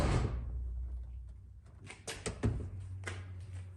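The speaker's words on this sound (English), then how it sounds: "It's nice, door closes." The door of a Fairmont race car is pushed shut, giving a dull thud followed by a few short clunks and rattles nearby in a quiet garage.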